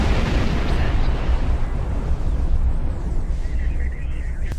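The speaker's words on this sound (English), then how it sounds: "Just a single spread of quantum torpedoes to destroy them" Quantum torpedo impacts on orbital defense turrets in Star Trek Online, a loud rolling explosive rumble that fills the whole span and slowly fades, with a faint whooshing tone near the end.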